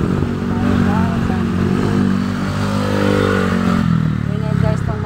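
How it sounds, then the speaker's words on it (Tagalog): A motorcycle engine drones loudly and steadily close by while riding a flooded road in Bulacan, its rumble holding a constant pitch with slight shifts as the rider moves along. "mag-ingay guys yung motor."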